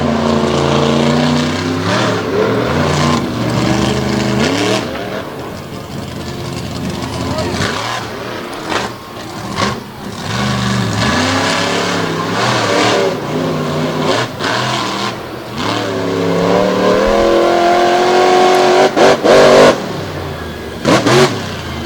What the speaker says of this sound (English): he smokes the tires over there in turn number